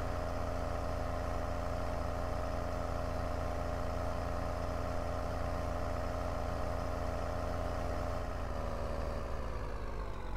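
Tractor engine in the farming game Thornton Farm, a continuous droning idle with a steady low hum and layered harmonics, loud and unbroken throughout, with a slight shift in pitch near the end.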